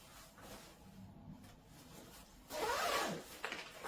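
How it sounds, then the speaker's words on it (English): A zipper slides up on a women's waterproof mountain ski jacket in one quick, close, rasping pull, with soft fabric rubbing and handling before and after. "So we'll zip it up."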